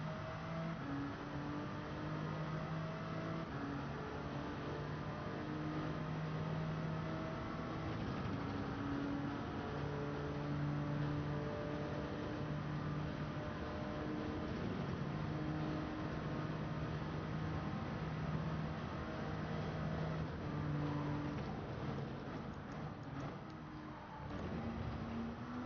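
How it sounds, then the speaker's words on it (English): A race car engine in Gran Turismo 7 at Circuit de la Sarthe drones steadily, bogging down and labouring through shifts in a continuous mid-level tone. "sounded like the engine got really bogged down"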